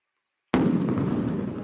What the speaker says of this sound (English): Another explosion there of tear gas.